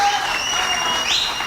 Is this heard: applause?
yes